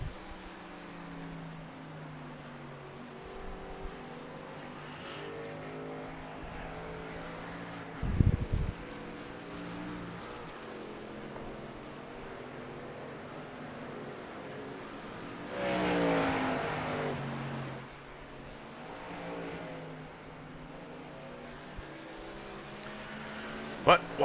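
AER series race trucks lapping a track in New Hampshire, engines droning and rising as they pass at a distance, with a louder surge midway and a commentator talking over the sound.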